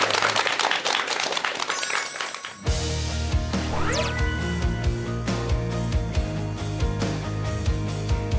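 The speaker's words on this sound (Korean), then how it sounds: "큰 박수 부탁드립니다" A lecture audience gives a big round of applause before a talk on meditation; a dense burst of clapping lasts a couple of seconds, then cuts abruptly to music with tonal chimes and clinks.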